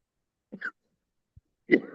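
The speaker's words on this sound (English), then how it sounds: "You got bad cough." Two rough coughs close by, separated by a short quiet gap with a faint thump between them.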